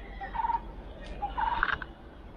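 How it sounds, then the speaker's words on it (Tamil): Loud peacock and cuckoo calls ring out in a quiet forest at Papanasam, Tirunelveli: two drawn-out tonal cries, the second longer and wavering, over a low background hum. "நல்லா மயில் குயில் கத்துற சத்தம்லாம் கேட்குது."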